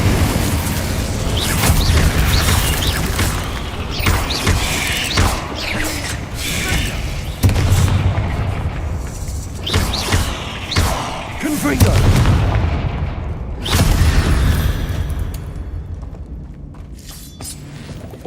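Incendio and Confringo spells blast in Hogwarts Legacy: a run of sharp booms and crackling, shattering bursts hits every few seconds, loud and close, over rumbling game ambience with occasional voice.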